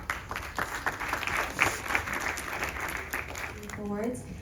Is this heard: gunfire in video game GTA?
no